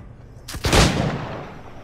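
A gunshot in the video game Assassin's Creed 4: Black Flag, a single loud close blast with a sharp crack that rolls into a long fading rumble.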